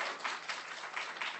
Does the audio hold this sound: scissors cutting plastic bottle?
no